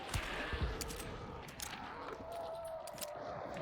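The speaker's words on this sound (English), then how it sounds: "Explosions somewhere, you hear all that? People blowing stuff up." Video game explosions go off somewhere in the distance, a scatter of sharp cracks and booms in irregular bursts over a steady background rumble.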